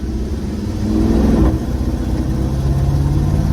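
1967 Chevrolet C10 pickup with a 5.3 LS V8, revving hard for about a second to a loud rumble before easing back to a steady, throaty idle, close up and without talk.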